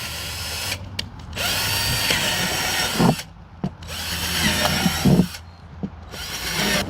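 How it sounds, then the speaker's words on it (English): A power drill bores drainage holes in the bottom of a container for growing sugarcane, whining in several loud, close bursts separated by short pauses. "you got to put drainage holes in the bottom,"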